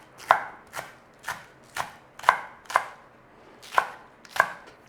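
Green onion being chopped with a knife on a cutting board, eight crisp, evenly spaced cuts ringing out close and clear with no talking.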